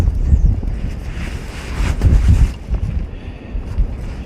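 Wind buffets the microphone during windy-day trout fishing from the shore, producing loud, rumbling gusts that swell and fade, with faint water wash in the background and no talking.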